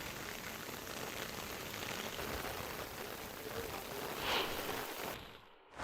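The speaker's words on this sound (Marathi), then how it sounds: "आज पुन्हा एकदा तालुक्यामध्ये जोरदार पाऊस पडतोय" Heavy monsoon rain pours over Badlapur in Ambernath taluka, a dense, steady hiss that holds evenly throughout, swelling briefly near the end before dropping away.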